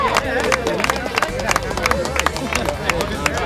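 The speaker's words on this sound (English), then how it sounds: "Come on, keep the applause going, everybody." Crowd applause at a 2005 grasstrack racing prize giving, steady dense clapping from a sizeable outdoor audience with some babble mixed in, fairly loud and continuous throughout.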